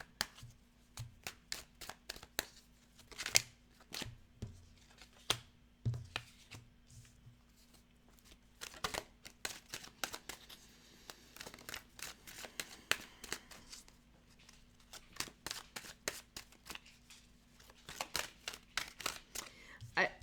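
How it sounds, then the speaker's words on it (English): Tarot cards being shuffled by hand, with a long run of crisp, sharp riffling clicks and taps at an irregular pace, close and fairly quiet, and no talking. "I'm going to keep shuffling"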